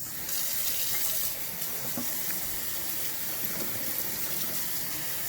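Tap water running steadily over raw pork ribs being rinsed in a kitchen sink, a continuous close splashing gush throughout with no talking.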